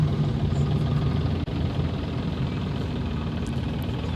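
Steady low engine drone from motorcycles in the background at a cricket ground in Hong Kong, a continuous distant rumble with no talk over it.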